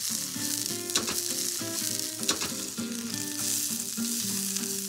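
Carrots and bean sprouts frying in olive oil in a wok for a Shanghai noodle and peanut butter salad, a loud, close, continuous sizzle broken by sharp stirring clatters, with no voices.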